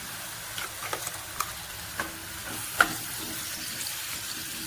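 Quiet, sparse scraping and clinking of a spoon stirring masala paste in a pan for chicken salna, with a faint sizzle underneath; no voices.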